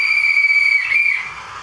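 Whistle of an ESU-sound Deutz KG 230 B model locomotive, a single steady high tone held about a second and a half before fading slightly, loud and close with no talk.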